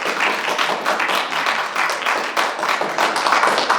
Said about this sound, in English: If folks can give me a round of applause.